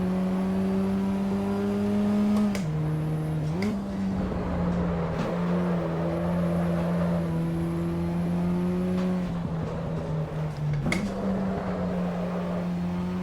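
A Ford Escort Cosworth in Assetto Corsa EVO drones steadily at high revs, with two quick gear-change dips where the engine note drops and climbs again. No one talks over it.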